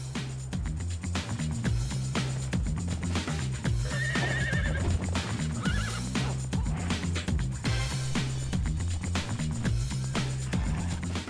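Horse galloping in the video game Conan Exiles, steady hoofbeats and whinnies layered over a dense, loud game soundtrack with rhythmic low tones throughout.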